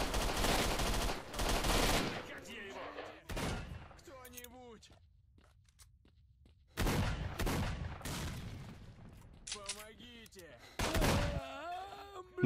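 Gunfire in the shooter game S.T.A.L.K.E.R.: Shadow of Chernobyl, loud bursts of automatic fire broken by quieter gaps, while someone talks and groans over the shooting.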